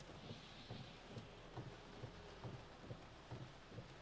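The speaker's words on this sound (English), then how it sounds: "It's raining still" Steady rain patters nearby with faint low rumbles of thunder and soft recurring thumps; no voices.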